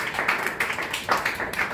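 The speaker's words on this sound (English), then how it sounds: "Clap if you guys have seen Cool Runnings." Audience clapping at a live stand-up comedy show in Minneapolis, a brief burst of scattered, fairly close applause lasting under two seconds with no talk over it.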